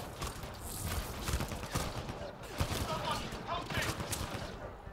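Rapid gunfire crackles in Mass Effect Andromeda as a distant, quiet, uneven stream of shots under a busy battle din.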